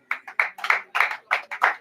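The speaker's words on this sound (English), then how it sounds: "Clap for her, please." Audience applause at a library lovers' day event, sparse and uneven, a handful of distinct clap clusters close by with short gaps between them.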